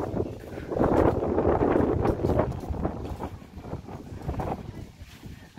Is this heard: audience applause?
no